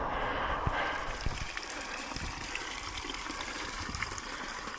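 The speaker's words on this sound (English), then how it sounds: "Free water fountains in most towns." Water runs steadily from a free public drinking fountain in a Spanish town, a continuous close splashing trickle with faint background noise.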